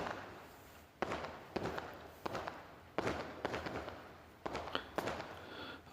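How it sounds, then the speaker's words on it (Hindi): Distant fireworks bursting after a Dussehra celebration: a series of sharp, far-off bangs spaced irregularly about half a second to a second apart, each followed by a rumbling decay over a steady hiss of background noise. "ये देखिए दूर कोई या तो दशहरा लेट संपन्न हुआ है या फिर वैसे कोई आतिशबाजी"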